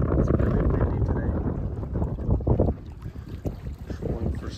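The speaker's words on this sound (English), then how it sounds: "It's really windy today." Steady wind roars and buffets the microphone throughout, a loud low rumble with gusty surges, outdoors at Lake Goodwin, Washington, while trout fishing.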